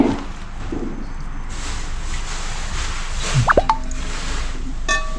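Marinated catfish dropped into a pot land with a wet plop and a few squishy, dripping splashes near the mic, over a steady background hiss.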